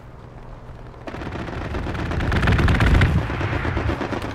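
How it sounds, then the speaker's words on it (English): Heavy gunfire from aircraft strafing runs in the WWII shooter Hell Let Loose, a sudden loud burst of rapid shots swelling into a dense, rumbling barrage that peaks and then trails off slightly. "they're coming here with strafing runs again"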